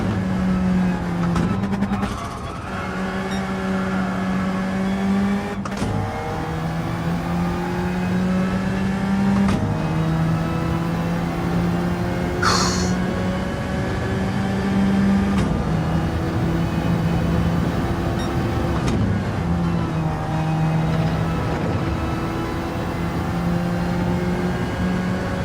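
GT3 race car engine in Gran Turismo 7, revving hard and shifting through gears repeatedly, with a loud, constant, close onboard drone that climbs in pitch, drops at each shift, then climbs again.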